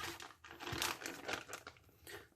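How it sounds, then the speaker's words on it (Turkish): Plastic bag crinkling close by, a continuous rustling and crackling texture with a few louder crunches, no voices. "kilitli bir poşetin içine koyuyorum."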